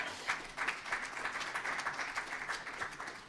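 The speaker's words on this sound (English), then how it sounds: "Please give him a round of applause." Sustained applause from a crowd, dense steady clapping throughout with no voices on top.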